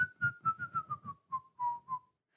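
Someone whistles the Gladiators theme tune, a quick descending run of short staccato notes ending in a few held ones, close and clear.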